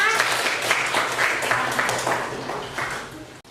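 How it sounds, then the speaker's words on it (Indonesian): Children in a classroom clap together in a lively burst of applause that gradually fades over about three seconds, with light chatter underneath. "Kasih tepuk tangan, Nak."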